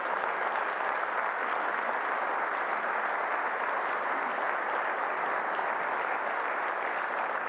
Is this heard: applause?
yes